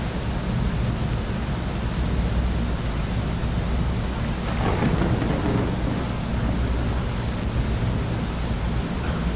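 A steady roar of heavy rain and wind from a storm at sea in Deadliest Catch The Game, with a low rumble of thunder swelling briefly midway.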